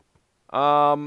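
A short, bright whinny of a horse in Minecraft rings out after a brief near-silence, tonal and steady before trailing off.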